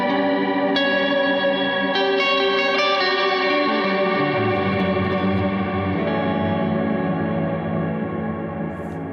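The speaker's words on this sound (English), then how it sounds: "Just a massive reverb." An electric guitar played through an Eventide H9 Max harmonizer pedal on its Hell's Gate massive reverb setting, with thick, chorused, echoing sustained chords that swell and slowly wash out, loud and alone.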